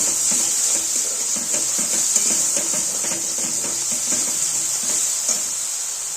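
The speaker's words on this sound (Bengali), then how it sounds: "অল্প একটু জল দিয়ে দিলাম, তাহলে কষাতে সুবিধা হবে।" Masala for Kashmiri alur dum frying hard in a pan after a splash of water, a loud steady sizzle and hiss with faint stirring scrapes running throughout, no voices.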